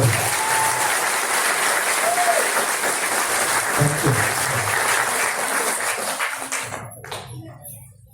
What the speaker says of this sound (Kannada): ಸಂಸ್ಥೆ ಶೆಟ್ರಿಗೊಂದು ಜೋರ ಚಪ್ಪಾಳೆ